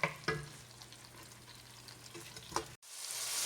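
Three chopped tomatoes frying in a pan for a potato curry, giving a steady soft sizzle with a few louder clinks of stirring near the start and end before a sudden cut.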